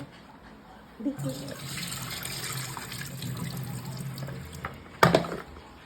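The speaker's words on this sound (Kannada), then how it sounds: "ಫಿಶ್ ಕ್ಲೀನಾಗಿ ತೊಳೆದಿನಿ ನೋಡ್ರಿ" Raw fish is rinsed under a running tap, a soft steady trickle of water with handling splashes and a sharper clatter near the end, while someone speaks.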